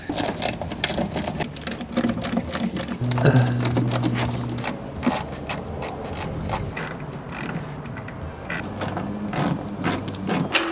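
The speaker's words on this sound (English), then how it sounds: "Let's just remove all the screws first and see what we're working with." Screws are being backed out of the wheel well of a BMW M Coupe, making rapid ratcheting, clicking mechanical sounds in uneven bursts close by, with brief low tones along the way.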